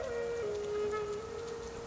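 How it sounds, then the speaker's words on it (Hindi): Steady rain falls in an animated Hindi story scene, a soft, even hiss of drops running unbroken at low level with a thin tonal line above it and no voices. "कितनी प्यारी बारिश है, मुझे बारिश देखना बहुत अच्छा लगता है।"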